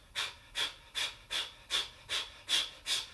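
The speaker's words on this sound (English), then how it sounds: "if you breathe out through the mouth," A person breathes out sharply through the mouth in a run of eight short, evenly spaced, breathy exhalations, close and clear with brief pauses between them.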